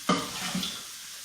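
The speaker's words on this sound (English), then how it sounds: "I'm going to throw in a little bit of water" Water splashing into a hot pan of cooking broccoli, a quick pour-hit followed by a short burst of hissing sizzle that fades within about a second.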